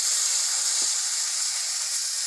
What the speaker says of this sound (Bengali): কপিটা ভাজা হয়ে গেছে